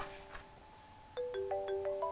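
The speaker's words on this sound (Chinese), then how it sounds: "我接个电话。" A phone ringtone chimes in a quick rising sequence of bright tones, starting faintly and growing louder partway through, heard alone without speech.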